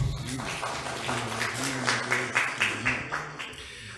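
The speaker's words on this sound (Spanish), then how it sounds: "Un aplauso de nuevo, por favor." Audience applause at a legal seminar on corporate rights, with rhythmic clapping that builds toward the end while a voice talks over it.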